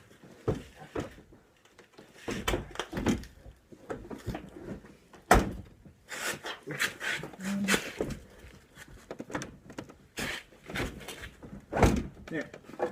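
A heavy Chevrolet Silverado 2500 HD truck door is lifted onto its hinge pins by two people, with dull metallic thunks and knocks scattered among their strained talk.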